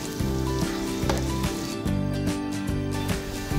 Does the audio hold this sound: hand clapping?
no